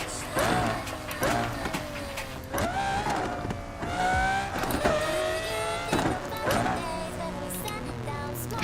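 Car in a driving game accelerating and being downshifted, engine note rising and falling in repeated revving sweeps with tire and road noise, loud and continuous throughout.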